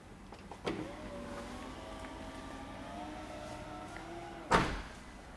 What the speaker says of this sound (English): We also have a power liftgate.